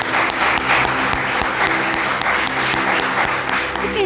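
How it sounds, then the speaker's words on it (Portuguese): A church congregation bursts into loud, sustained applause, dense overlapping clapping continuing steadily throughout with a few voices mixed in. "Vamos aplaudir o Senhor por isso."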